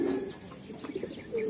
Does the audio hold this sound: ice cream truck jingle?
no